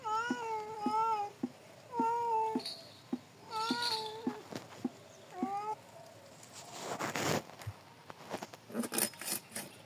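Domestic cat meowing repeatedly up close, four or five clear drawn-out meows in an irregular rhythm, followed by household rustling and clatter.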